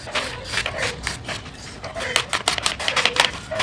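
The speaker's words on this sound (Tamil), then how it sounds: "இப்போ இந்த கட் பண்ணியிருக்க பீஸை வந்து வெறுமனையாக சின்ன சின்னதாக கட் பண்ணி மட்டும் உள்ளே போடணும்" Knife chopping watermelon into small pieces for juice, a quick run of close, sharp taps on a board with uneven rhythm, denser toward the end.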